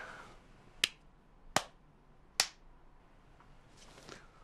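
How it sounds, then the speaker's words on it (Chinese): Hands clap three times, sharp and close, at an even spacing of under a second apart, with quiet room noise in between. "这么爱鼓掌是不是，臭小子啊！"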